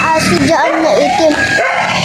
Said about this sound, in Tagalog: yung sobrang laking aso dyan na itim